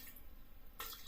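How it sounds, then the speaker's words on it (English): Water poured into a potted cactus, a short faint trickle and splash that swells near the end. "Now I'll just put a little bit more water because this is nearly drained."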